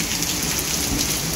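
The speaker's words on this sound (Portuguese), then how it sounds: "Olha, chuva mesmo." Heavy rain pours on surfaces in the countryside, with wind earlier, a dense steady hiss and patter that fills the space, loud and close with no voices.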